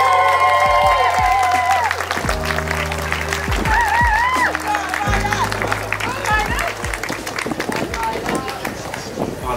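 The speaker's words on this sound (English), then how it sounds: "Ladies and gentlemen, a big round of applause for Violet" Loud audience clapping and cheering at a university undergraduate summer show celebration, a dense roar throughout with music-like tones and voices layered over it.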